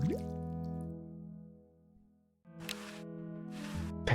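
Water pours into a bucket in a video game, a tonal ringing fill that fades out and then returns as a brighter rushing splash with harmonic resonance, no talk.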